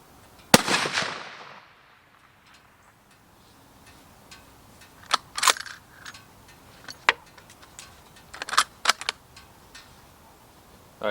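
A Ruger American rifle in .350 Legend fires a single sharp, loud shot near the start and then rings off. Softer clicks and handling knocks follow over the next several seconds.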